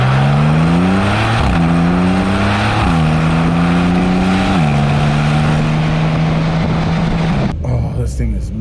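A Porsche 911 in sport mode accelerates hard. Its engine note climbs, drops at each gear change and climbs again, loud and close from inside the car, before cutting away near the end.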